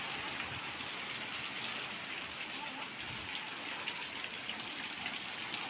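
Heavy rain driven by strong wind pours down steadily outdoors, a dense, continuous hiss of water without letup.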